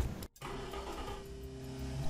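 An inline-4 sports car engine in a racing video game revs hard, a loud sustained buzzing drone that drops out briefly then returns at high pitch.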